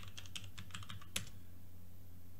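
A password is typed on a computer keyboard: a quick run of light key clicks ending in one sharper keystroke, then quiet. Close and soft, with no talking.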